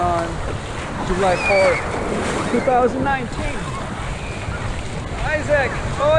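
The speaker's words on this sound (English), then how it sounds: "Both of them playing water at the beach, Santa Monica Beach" Ocean waves wash at Santa Monica Beach on the Fourth of July, a steady surf rush with wind buffeting the microphone, under talk and children's shouting voices.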